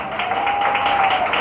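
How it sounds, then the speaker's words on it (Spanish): A church congregation applauds steadily during a Spanish-language worship service, a dense, sustained wash of many hands clapping at fairly close range, with a thin tone holding underneath. "Ese aplauso es para el Rey de Reyes y Señor de Señores."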